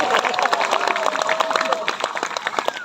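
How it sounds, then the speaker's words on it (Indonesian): An audience at a Hari Santri Nasional gathering at an Indonesian pesantren breaks into dense, lively applause for the Indonesian police, with loud clapping mixed with cheering voices and talk throughout. "Tepuk tangan buat polisi Indonesia."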